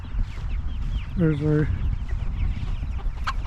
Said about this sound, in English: We're going out here with our meat chickens.